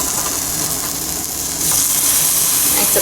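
Banana pancakes sizzle in butter in a pan with a steady close hiss that swells louder and brighter halfway through, likely as the pancakes are pressed down.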